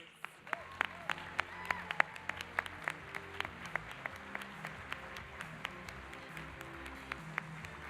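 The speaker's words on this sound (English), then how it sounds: "Please give a round of applause to Golden Corral, Raleigh, and Bimbo Bakeries." Scattered applause at a corporate award ceremony: individual claps ring out sparsely and fairly faint in a reverberant hall, with background murmur and a low tonal hum beneath.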